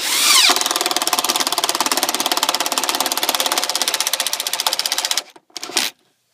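A cordless impact drill runs with a loud, fast, steady hammering rattle for about five seconds, then cuts off, gives a short stuttering restart and stops.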